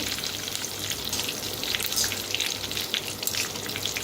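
Curry leaves crackle and spatter in hot oil, a dense close sizzle with rapid popping bursts that rise and fall over the few seconds.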